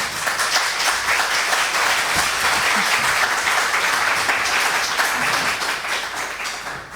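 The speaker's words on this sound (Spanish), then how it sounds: "Un aplauso para ellos." An audience applauds the speakers at the close of a talk, loud, dense clapping holding steady for several seconds before starting to thin toward the end.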